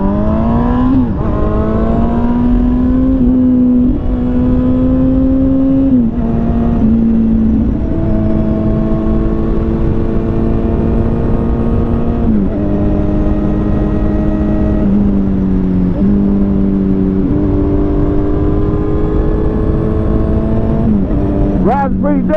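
A 2007 Kawasaki motorcycle engine, loud and close, revs and drops again and again through the whole ride, its pitch climbing and falling in steady surges, with a voice heard faintly under the engine at times.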